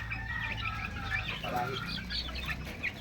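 Fighting roosters on a small chicken farm in San Carlos, Pangasinan cluck steadily and close by, with overlapping fowl calls and farm noise throughout, and no speech.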